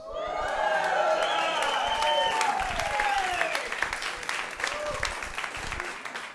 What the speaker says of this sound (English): I love being applauded for breathing